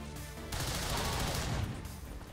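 Weapon fire with ignition rounds in XCOM 2 erupts as a dense, loud burst of shots after a brief quieter lead-in, then tapers slightly toward the end.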